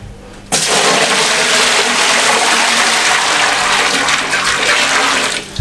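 Water gushes loudly and steadily into a pot being readied to steam a mutton leg, a sudden strong pour that starts abruptly and runs unbroken, close to the listener, before easing at the end.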